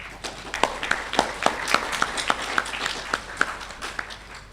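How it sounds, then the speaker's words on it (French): Rhythmic clapping from the hall at the opening ceremony of an African human rights commission session, sharp evenly spaced claps ringing out one after another with no voices over them. "je pense que ça mérite des applaudissements de la salle"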